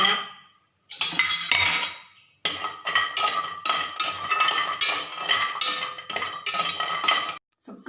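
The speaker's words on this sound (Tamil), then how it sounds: "இப்போ சுக்கை வறுத்துக்கிறோம்." Dry ginger (sukku) being roasted in a pan for sukku malli coffee, with repeated metallic scraping and clinking of a spoon against the pan in bursts, close and fairly loud, with a brief pause partway through.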